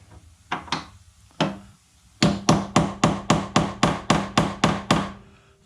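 A tool tapped with a hammer to knock a metal sleeve out of a Jeep TJ door liner: a few uneven metallic-wooden knocks, then a steady run of about ten sharp, evenly spaced strikes, close and loud.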